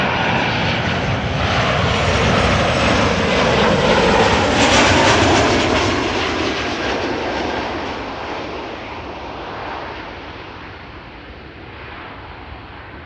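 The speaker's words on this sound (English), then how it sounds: "Nice touchdown of the 737 from Transavia" A Transavia Boeing 737 lands at Amsterdam Schiphol, a loud, close broadband engine roar that swells to a peak and then slowly fades as the jet rolls out, with no voices.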